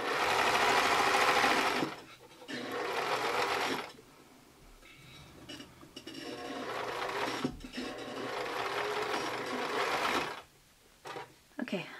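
Sewing machine stitching strips of a quilt block with tricky angles, running in steady bursts of a few seconds each with short pauses between, close and fairly loud, with no talk over it.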